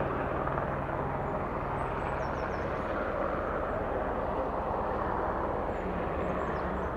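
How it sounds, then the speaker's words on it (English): A red helicopter taking off nearby, heard as a steady, fairly loud broadband engine and rotor roar that holds evenly throughout with no break. "it's always fun to see a helicopter, Borg, and there's one just taking off there"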